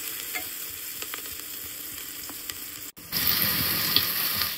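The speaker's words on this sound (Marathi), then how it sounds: "आता हे जे आहे कांदा मी लालसर असा परतून घेतलेला आहे" Onions browning in a pan for pav bhaji give a steady close sizzle with light stirring, then a brief break before a louder, hissier burst of frying as something is added.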